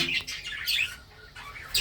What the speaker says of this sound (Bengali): আজকে আমি আপনাদের সামনে কিছু রানিং বাজিকার পাখি দেখাবো